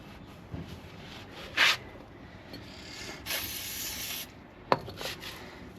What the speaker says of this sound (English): let's give it a decent wipe both sides